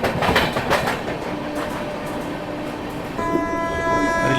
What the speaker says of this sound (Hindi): ये अपनी ट्रेन स्किप कर रही है नेल्लौर रेलवे स्टेशन को